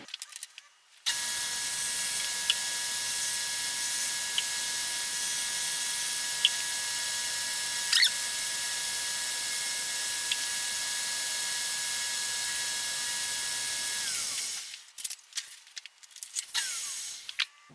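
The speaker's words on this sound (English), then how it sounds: "let's head over to the grinder and knock that up" A belt grinder running a 60-grit belt grinds a small, narrow lathe tool bit, a continuous high whining hiss that holds steady for about thirteen seconds before spinning down, with faint workshop clatter at either end.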